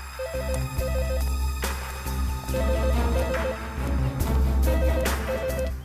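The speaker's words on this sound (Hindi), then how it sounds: "रिंग यहाँ बज रही है।" A telephone rings in repeated warbling bursts, three clear rings spaced over a busy background.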